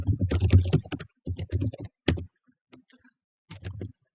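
Quick bursts of keystrokes on a computer keyboard as a command is entered, close and crisp clicking runs with brief pauses between them.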